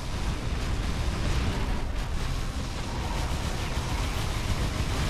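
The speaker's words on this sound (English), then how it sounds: "I can still get these bots with the cannon." Cannon towers in the tower-defense game Defense Grid 2 fire in a dense, continuous barrage of booming blasts that blend into a loud, steady rumble throughout.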